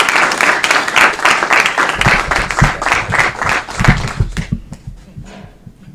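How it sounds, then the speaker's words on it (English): Loud applause fills a council chamber for an Illinois PTA Teacher of the Year from Indian Prairie School District 204, dense clapping that thins and tapers off over the final seconds. "Let's give him another round of applause."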